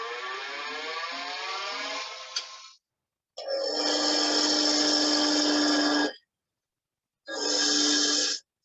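Wood spinning on a lathe while a tool cuts down one side of the piece, a loud tonal whirring hum in three separate runs broken by abrupt silences.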